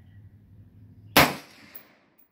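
A single 350 Legend rifle shot, a loud sharp crack close by with a short decaying tail, after a quiet moment of low background noise.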